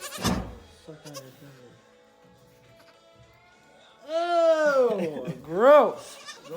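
Goats bleat on a family farm in New York, where young kids were just born: a few loud, wavering calls near the mic in the second half, after a short burst of talk and quieter rustling.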